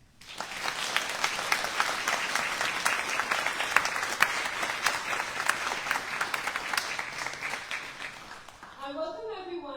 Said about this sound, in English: We want to start for thanking our volunteers with a big round of applause